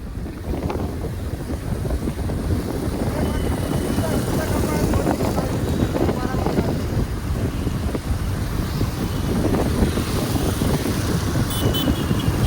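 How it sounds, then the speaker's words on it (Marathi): Steady engine drone and heavy wind buffeting from a moving motorcycle, continuous and close, with voices talking over it. "my friend Kakade, number 1 driver of the motorcycle"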